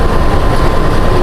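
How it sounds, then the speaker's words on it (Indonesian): The Wijaya Kusuma passenger train from Ketapang to Cilacap rolls into track 2 of a station with a loud, close, heavy rumble of wheels and engine, a continuous low roar with no pause. "Masuk di jalur 2 kereta api Wijaya Kusuma dari Ketapang tujuan Cilacap"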